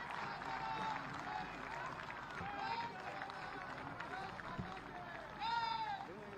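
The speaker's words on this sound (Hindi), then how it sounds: "जोरदार तालियां।" A crowd at a police duty meet closing ceremony claps for a trophy award, a continuous broad rush of applause with voices talking over it.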